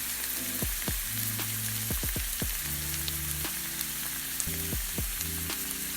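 Spiced chole masala sizzles steadily in a hot pan as half a glass of water goes in, a soft, continuous frying crackle with no talking.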